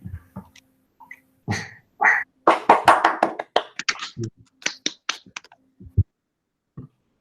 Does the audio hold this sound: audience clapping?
yes